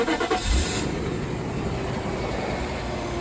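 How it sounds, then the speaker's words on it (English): A Mercedes SL500 R129 engine cranks briefly and catches, then settles into a steady close idle, heard alone with no talk. "we can start the engine"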